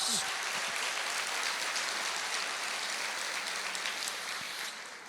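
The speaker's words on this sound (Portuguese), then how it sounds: "Aplauda o Senhor" A church congregation claps in praise during a Portuguese-language sermon, a dense, steady wash of hands filling the room for about five seconds before easing off at the end.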